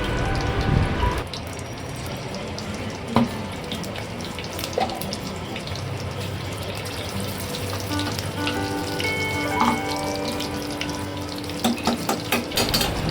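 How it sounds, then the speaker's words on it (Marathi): A green chili sizzles in hot oil for tempering a Malvani sweet dal, with a soft steady crackle and scattered clinks and pops spread over several seconds. "एक मिरची फोडणीत टाकून घेऊया."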